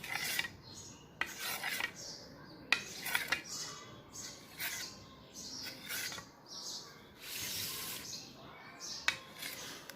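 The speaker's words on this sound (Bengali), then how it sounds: "তো বন্ধুরা জেলোগুলো এভাবে ছুরি দিয়ে কেটে নিতে হবে।" A knife slicing through jello with faint, intermittent scraping and clinking of the blade against the dish, soft and close, in short repeated strokes.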